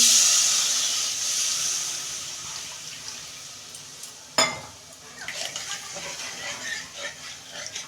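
Water poured onto well-fried masala in a hot pan for a katla fish curry sets off a loud hiss that slowly fades, followed by a clank and softer bubbling and spoon scrapes, no voices.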